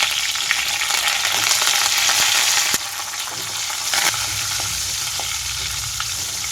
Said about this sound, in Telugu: ఈ వెల్లుల్లి రెమ్మలన్నీ కొంచెంగా వేగాలి.